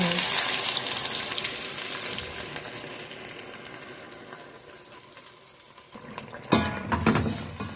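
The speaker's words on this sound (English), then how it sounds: "stir very well" Onions and pepper stirred in a pot for Nigerian okra soup, with scraping and clinking of a utensil against the pot, water-like splashes, and a louder clatter near the end.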